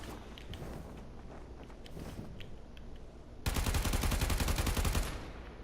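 Automatic gunfire from a weapon in the video game Warframe: quiet game sounds with faint footsteps give way to a sudden, loud, rapid burst of shots that holds for about two seconds and then stops.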